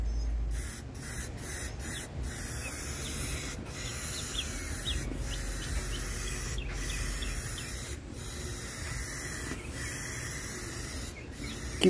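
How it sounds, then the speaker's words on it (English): A spray can of Rustoleum filler primer hisses onto a car in repeated short bursts, each spray lasting about a second with brief gaps between, close and steady, with no talking. "Keep the sprayer nice and straight."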